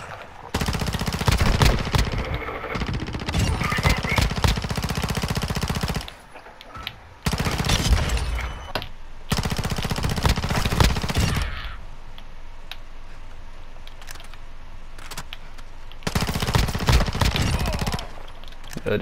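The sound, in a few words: gunfire from a weapon in the video game Modern Warfare II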